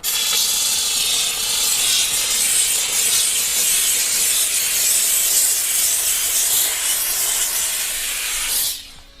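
A loud, steady hiss from a steam cleaner on leather, blowing continuously for several seconds, then cutting off abruptly near the end.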